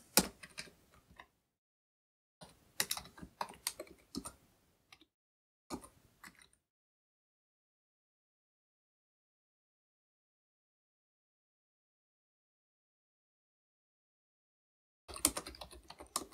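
Code is typed on a computer keyboard in short, close bursts of clicking keystrokes, separated by a long silent pause before a final flurry.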